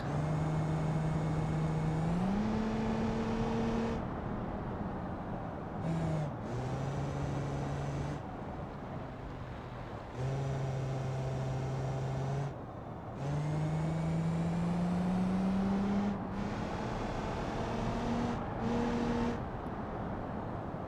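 A car fitted with a sport exhaust in the BeamNG.drive driving game drones loudly and steadily, its engine note climbing and dropping in stepped gear changes, with brief lifts off the throttle and no talking.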